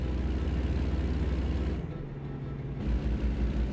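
A heavy truck engine rumbles loudly and continuously nearby, dipping briefly then rising again, a low vibrating drone.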